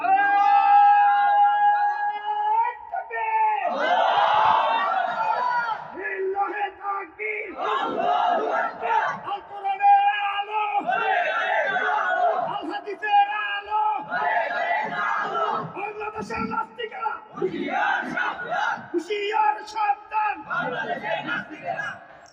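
A large crowd at a religious sermon loudly chants a religious slogan in repeated bursts, answering a leading voice in rhythmic call-and-response, with a strong echo as if over loudspeakers.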